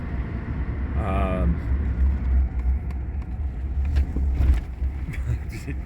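Traffic backed up in a jam in Fremont, with a steady low engine rumble of idling and creeping cars throughout, a brief tonal horn-like sound near the start, and people talking over it.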